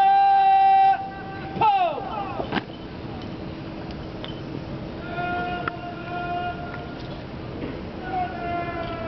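A regimental goat mascot on a parade ground during a changing of the guard ceremony at the Quebec City Citadel gives a loud bleat at the start, followed by quieter bleats and crowd ambience, with people talking nearby.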